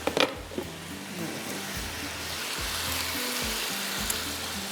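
Steady frying sizzle from a pot of egg pulao cooking, continuous and close, with a few low knocks and faint stirring under a soft hiss.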